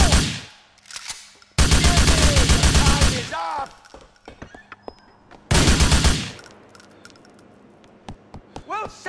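Gunfire in GTA IV: two long loud bursts of automatic fire, each with metallic casing clinks, separated by scattered single shots and tinkling shells.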